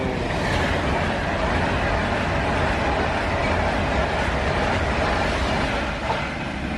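An Avanti express train passes a platform at Stafford station, a loud, continuous roar of wheels and rushing air close by that holds steady for several seconds with faint rhythmic clatter.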